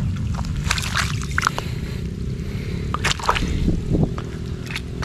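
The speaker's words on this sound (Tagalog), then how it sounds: "Grabe ulan na yan." Heavy rain pouring steadily on a farm, a dense continuous patter and splashing with scattered louder drips and knocks close by.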